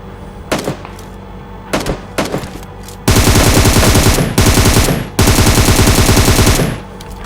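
Gunfire in a PUBG Mobile fight: a few separate single shots, then loud rapid automatic bursts broken by brief pauses, close and dominant with no talk over them.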